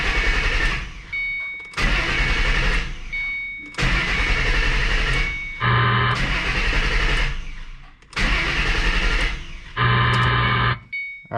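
A 2005-2009 Ford Mustang GT, fuel filter removed, has its ignition cycled: several separate cranking bursts of a few seconds each, loud and close, with a steady electronic chime tone in between.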